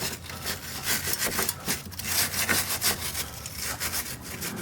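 Rust and dirt are scraped out of a Jeep's coil spring mount with rapid, rough back-and-forth strokes, a close and continuous gritty rasp.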